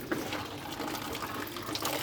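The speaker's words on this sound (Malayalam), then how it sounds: "ഇല നന്നായിട്ടൊന്ന് കഴുകാം കേട്ടോ" Tap water runs steadily over a banana leaf being washed, a close, even splashing rush with faint rustles of the leaf beneath it.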